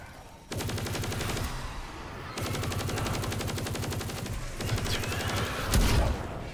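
Rapid automatic gunfire in Black Ops Cold War Zombies, loud sustained bursts of machine-gun fire separated by brief pauses, with a heavy boom near the end and no speech.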